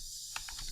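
A computer keyboard clatters with a few quick, close keystrokes while HTML code is typed, after a brief quiet pause.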